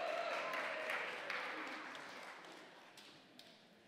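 Faint applause from an audience at a political summit, a soft wash of many hands clapping that slowly thins and fades, with a few scattered late claps near the end.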